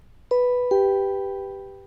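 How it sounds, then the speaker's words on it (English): A two-tone doorbell chime, a ding followed by a dong, ringing clearly and fading slowly into quiet. "Then the doorbell rang."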